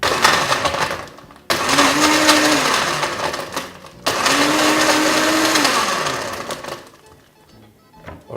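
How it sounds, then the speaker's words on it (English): A countertop blender whirs through fresh fruit for a virgin mojito in two loud pulses of a few seconds each, separated by short pauses, with the motor pitch sagging under load and then winding down to quiet. "proceed to blend everything together. So we're just going to move that to our blender up here."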